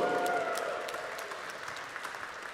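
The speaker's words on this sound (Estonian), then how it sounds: "Aplaus!" Applause at a women's handball award ceremony in a hall, a broad wash of many hands clapping, fairly distant and fading slightly toward the end, with no voices over it.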